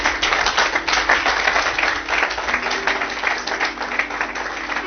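Congregation clapping in a church service, a steady wash of many hands applauding at moderate loudness for several seconds, with no voices standing out.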